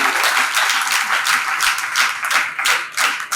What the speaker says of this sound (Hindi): एक बार ताली होती